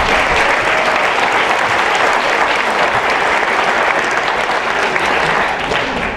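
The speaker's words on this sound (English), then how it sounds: "Now we can clap for all of these board of directors." Audience at a college scholarship award ceremony applauding the board of directors, a loud, sustained, even roar of many hands clapping without a break, with faint crowd voices beneath.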